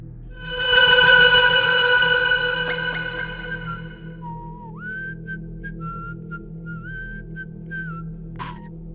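An eerie, soft whistling: a held tone with a brief vibrato swell at first, then a faint, wavering, slow tune of sliding notes, alone over a low background hum.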